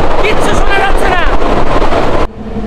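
Mongla to Benapole train crossing a bridge at about 90 km/h: a loud, close roaring rumble with rushing wind, a voice faintly under the din, then an abrupt drop in level near the end.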